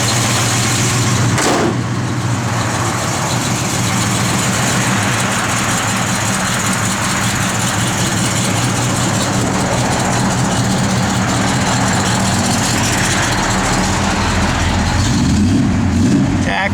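A 1970 Plymouth Duster's matching-numbers 340 V8 with a mild cam idles loudly and steadily nearby, a continuous low rumble that swells slightly toward the end.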